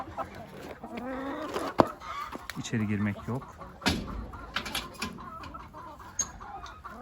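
Chickens cluck close by in a backyard coop among hens and a rooster, in short bursts and scattered calls, with a voice speaking over them now and then.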